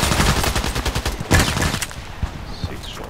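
Rapid burst of gunfire in the Contract Wars first-person shooter, several sharp shots in quick succession up close and loud, then fading to quieter game ambience.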